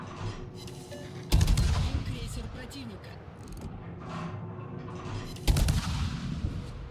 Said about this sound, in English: There's his shots.